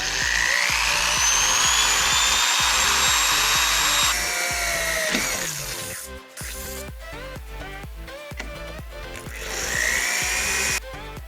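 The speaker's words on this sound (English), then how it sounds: "We're going to use a drill with a small bit and a high speed." A high-speed power drill with a small bit bores a hole through a car's body panel, its motor whining loudly and steadily, pitch dipping as the bit bites and briefly pausing midway before spinning up again, with no voices.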